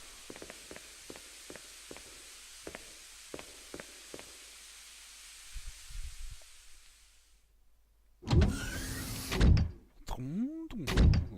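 A heavy mechanical door opening in the video game Resident Evil HD Remaster, preceded by soft footsteps, then a loud grinding, whirring slide with rising mechanical tones, close and alone.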